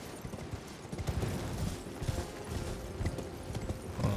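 Galloping horse hooves in the video game Elden Ring clip-clopping in a quick, continuous rhythm with a busy background of clatter and noise.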